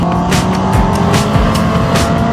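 Motorcycle riding in third gear around a race track on a track day, its engine droning loud and steady with whooshing wind buffeting, held at a constant pitch for a couple of seconds.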